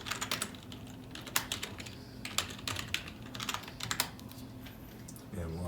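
Username and password being typed on a computer keyboard, with quick, close key clicks in irregular clusters over faint background noise, while a person speaks quietly in the background.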